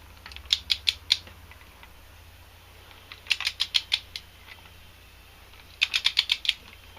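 A torque wrench tightening bolts on a Yanmar 3GM30 marine diesel engine during a top-end rebuild clicks in three short sharp ratcheting bursts, each a quick run of four or five close, fairly quiet clicks separated by pauses.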